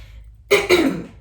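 A short, close cough or throat clearing in two quick bursts after a near-silent moment.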